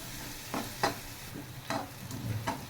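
Onion and kokum fry in oil for a Maharashtrian red amaranth dish, a soft steady sizzle broken by several spaced stirring scrapes of a spoon against the pan, close and fairly quiet, without speech.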